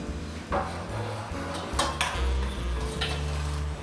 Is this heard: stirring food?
yes